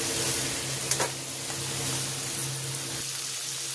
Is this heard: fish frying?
yes